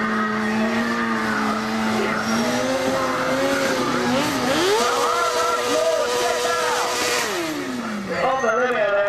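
Stunt motorcycle in an arena burnout run, the engine held at high revs with rising and falling pitch sweeps and tire squeal, loud and close, with a voice faintly audible underneath.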